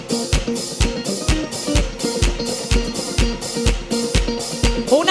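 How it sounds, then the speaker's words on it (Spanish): A concert crowd claps along to the music in Sahagún, with regular rhythmic hand claps landing in time over the band's playing, loud and steady. "usted me va a dar unas palmas"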